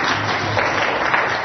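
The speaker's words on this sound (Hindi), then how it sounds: "ताली बजाओ इसके लिए कस के" A class of children in a mathematics lesson claps together, a dense, loud and even burst of applause filling the whole moment.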